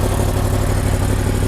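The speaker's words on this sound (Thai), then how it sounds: "อันนี้เป็นเสียงเดินเบา เดินเบา" A Yamaha YZF-R1M motorcycle with a full titanium Akrapovic exhaust idling, a steady low rumbling throb held evenly throughout, close and loud.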